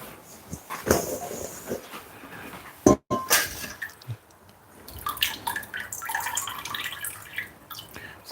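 Water drips and splashes as cooked king prawns are lifted out of a pot of cooking water, with a few scattered close drips and a sharp clatter partway through, no talking.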